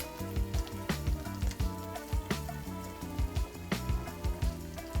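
Eggs fry in bacon grease in a pan, a continuous sizzle and crackle heard beneath a steady rhythmic background pulse.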